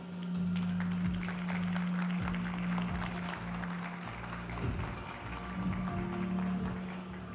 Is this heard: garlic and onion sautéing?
no